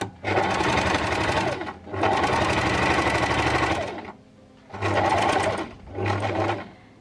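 Sewing machine running in four sustained bursts as it backstitches at the start of a seam, a loud close motor whir with short pauses between runs.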